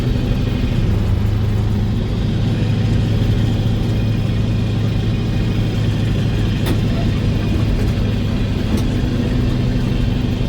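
Caterpillar 10.4 litre V8 turbo truck engine running, a loud steady low rumble with a constant droning tone heard close from inside the cab.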